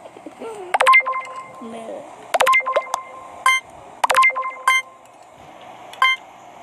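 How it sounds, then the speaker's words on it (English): Among Us emergency meeting alarm: three bursts of bright electronic beeping tones at even intervals, with a voice talking between them. "Emergency meeting. Beep."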